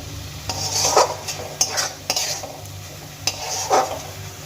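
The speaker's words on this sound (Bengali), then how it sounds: "যতক্ষণ না টমেটোর থেকে জলটা শুকিয়ে যাচ্ছে ততক্ষণ কিন্তু টমেটো আমার ভেজে নিতে হবে" Tomatoes fry in a pan while a spoon stirs them, a soft steady sizzle broken by several scraping strokes and light clinks against the pan, heard close with no talking.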